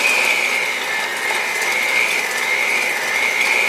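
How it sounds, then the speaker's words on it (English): An electric hand mixer creams cream cheese and sugar together for an Oreo cheesecake, giving a steady high motor whine with a faint rattling beater texture close by and no talking. "then I'll grab my mixer, and we'll start combining this"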